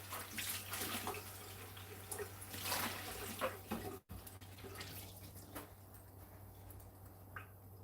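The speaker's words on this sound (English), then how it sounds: "Give it a rinse." Running tap water rinses a container, with a steady splashing stream that fades briefly midway, then lighter trickles and drips, close and fairly quiet.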